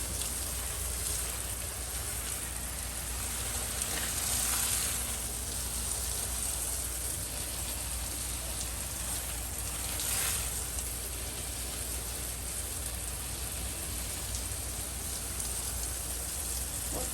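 Garden plants being watered with a water spray on a hot day, a steady hissing spray that runs without a break and swells now and then, close to the mic.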